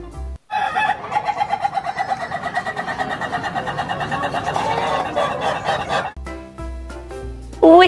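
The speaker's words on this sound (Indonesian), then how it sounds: "Ada ayam jago." Toy rooster giving a long, loud electronic crowing call, pulsing and steady for several seconds, then cutting off before a short burst of toy sound and a brief voice at the end.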